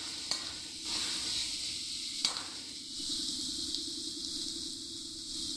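Bottle gourd peel fries in a pan with sugar, giving a steady close sizzle broken by a few brief scraping stirs.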